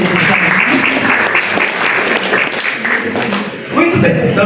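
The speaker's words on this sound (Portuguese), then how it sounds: "Palmas para o Jaime, bem com peso, Jaime" An audience at a university talk applauds steadily, a dense wash of clapping close and loud with a host's voice speaking over it.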